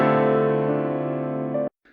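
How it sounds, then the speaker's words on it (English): A single sustained sampled piano chord from a production, ringing evenly for under two seconds before an abrupt fade-cut, alone and fairly loud. "Next up is this pause piano sample,"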